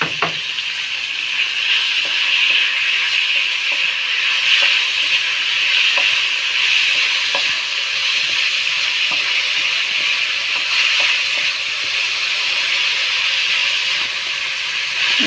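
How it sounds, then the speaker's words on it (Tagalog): Ground pork sautés in a hot pan for palabok, a steady bright sizzle and hiss that runs unbroken, with a few small pops and stirring clicks now and then. "Igisa lang natin yung pork"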